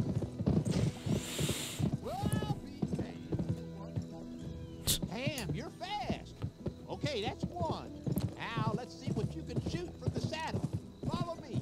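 Hooves clip-clop as a horse gallops in the PS2 western game Gun, with neighing and whinnies rising over the rhythm and a person talking throughout.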